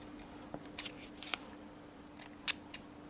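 Scissors snipping off excess sewing thread from stitched watercolor paper, a few short, crisp close cuts spaced apart in a quiet room.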